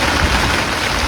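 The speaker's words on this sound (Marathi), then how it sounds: "बार पाऊस आलाय मित्रांनो." Heavy rain pours down steadily during a rural downpour, a loud, dense, unbroken hiss close by with no voices.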